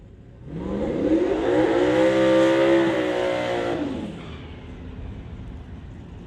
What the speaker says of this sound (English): here comes your first car rolling under the bridge